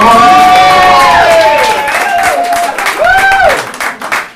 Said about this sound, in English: we can clap a bit louder for that